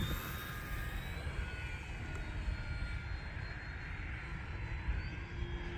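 An E-flite T-28 1.2m RC model airplane on a 4S battery flies on a wet day, its electric motor giving a steady, continuous drone with a faint whine, holding an even level throughout with no one talking.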